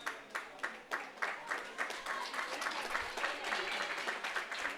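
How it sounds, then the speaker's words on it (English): Crowd applause at a women's Gaelic football relegation qualifier between Cavan and Tyrone, acknowledging a Tyrone player leaving the pitch; a few sharp claps open into a steady, broad wash of distant stadium clapping under a commentator's voice. "Round of applause for the efforts of Niamh Hughes, and rightly so."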